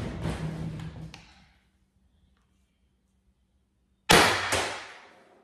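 A JulV3 round fired from a Salt Supply S2 strikes a target in a sharp clanging impact that rings and decays, followed after a silent gap by a second loud hit, with no talking.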